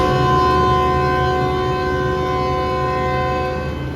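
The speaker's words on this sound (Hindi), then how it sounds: "तो ये लीजिए departure whistle first initial on हो चुका है।" Shalimar Express train whistle sounding a sustained, loud, harmonic departure tone at a Lahore station, held steady and fading slightly at the end, with no voices.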